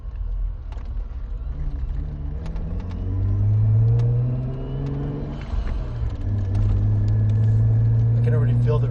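A Jeep JKU Rubicon with newly fitted 5.13 gears accelerates on a road test drive, its engine note rising through the gears as a loud, near cabin rumble, with people talking over it.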